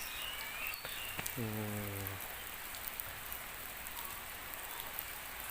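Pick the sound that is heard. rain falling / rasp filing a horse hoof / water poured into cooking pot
rain falling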